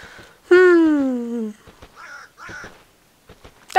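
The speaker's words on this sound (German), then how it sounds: "Ich höre Krähen, aber ich sehe keine." Crows cawing in the video game Divinity 2: one long, loud, harsh caw near the start, followed by fainter scattered calls and rustling, with no talk over it.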